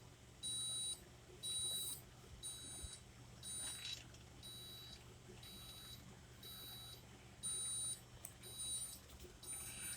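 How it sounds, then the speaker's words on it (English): The leveling system on a 2021 Seneca 37L RV beeps steadily, with sharp high-pitched tones repeating in even bursts about once a second over a low background hum. "So while the leveling system is working, it's beeping steadily."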